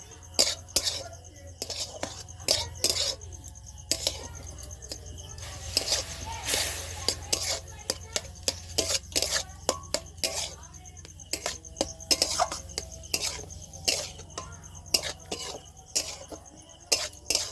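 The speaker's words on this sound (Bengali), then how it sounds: "অল্প অল্প করে জল দিয়ে এইভাবে আপনারা একটা ডো পাকিয়ে নেবেন।" Flour and water kneaded by hand into a dough for a sweet, with repeated wet slaps, clinks and scrapes against a bowl in an uneven rhythm over a low steady hum.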